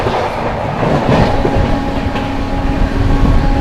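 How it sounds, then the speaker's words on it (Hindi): A moving train rumbles past the Magadh Express as it overtakes near Vindhyachal, loud continuous wheel clatter and rail roar at close range, with no talk. "ओवरटेक कर रहे हैं मगध एक्सप्रेस को। Overtaking Magadh express."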